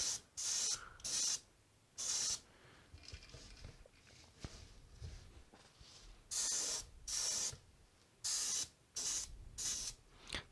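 Badger airbrush spraying runny paint at raised pressure for a customer toy repaint, in repeated short hissing bursts of about half a second to a second, close and fairly loud, with quiet gaps between them.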